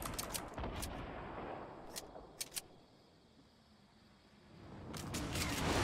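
Gunfire in Fortnite cracks in sharp bursts, several quick shots early and a pair midway, with a lull before a fresh volley near the end, all fairly faint.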